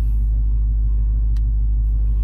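A 2022 Dodge Charger Scat Pack Widebody idles nearby with a steady, loud low rumble, holding an even tone throughout with no revving and no talk.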